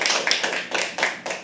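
Small audience at a live poetry open mic clapping in uneven bursts, about five or six distinct swells of close, crisp handclaps rising and fading in quick succession.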